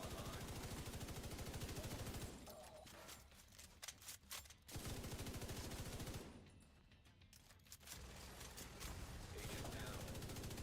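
Rapid automatic gunfire in a first-person shooter, loud continuous bursts broken by two brief pauses filled with scattered single shots and clicks, all quite close.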